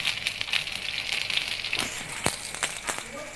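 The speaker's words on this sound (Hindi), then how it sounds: "ये अच्छे से चटकने लगा है।" Curry leaves, green chili and cumin sizzle and crackle in hot oil in a frying pan, with sharp, irregular pops over a steady hiss, close and moderately loud.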